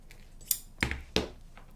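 Scissors snipping through a no-sew quilted fabric angel ornament, three short crisp cuts spaced apart, close and fairly quiet.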